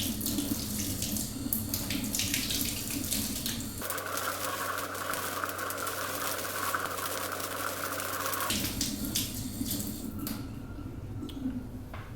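Water from a kitchen sink tap pours over the roots of a Dendrobium orchid, a steady splashing rush that shifts to a deeper, fuller tone partway through as the stream hits the roots, then returns to a thinner trickle.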